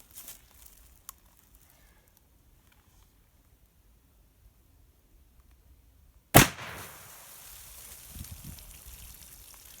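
A .410 PDX-1 Defender fires a single loud, sharp gunshot at a meat target after a quiet stretch, followed by a burst of rustling and low thuds.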